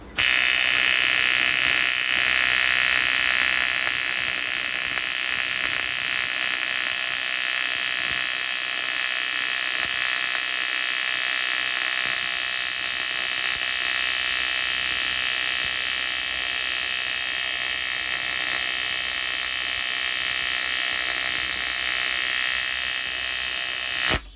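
An aluminum TIG welding arc hums and buzzes steadily and loudly for the whole stretch, a continuous bright electric hiss with no speech.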